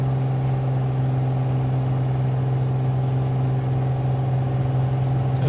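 A Piper PA-28R Turbo Arrow engine at full takeoff power in Microsoft Flight Simulator 2020 drones steadily, with a strong constant tone and buzzing harmonics, continuous and even throughout.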